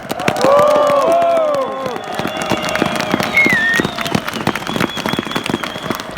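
Outdoor crowd at an anti-restrictions demonstration at Toompea, Estonia, claps steadily and densely, with loud whistles and shouts rising over the applause early on before it settles into continuous, fairly close clapping.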